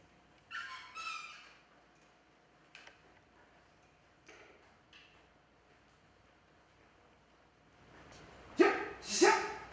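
A dog gives a few scattered yips and barks at moderate distance, with quiet gaps between them, then two louder, drawn-out howling barks close by at the end.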